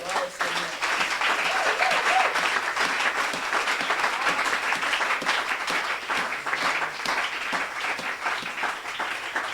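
A church congregation claps and cheers loudly, a dense sustained burst of applause with voices mixed in that lasts throughout.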